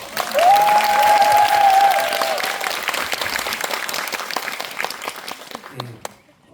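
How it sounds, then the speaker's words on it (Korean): Audience applause for three guests at a Korean film screening talk for Wild Thing, a full steady clapping crowd that swells early then gradually thins and fades out, with a faint tone over the start. "다시 한번 세 분께 박수"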